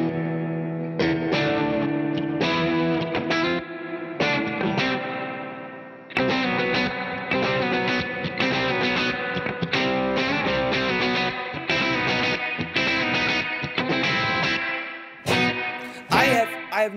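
Electric guitar chords and picked notes drenched in a splashy spring reverb from a CTC Sidekick Jr. pedal, played continuously with brief pauses, loud and close.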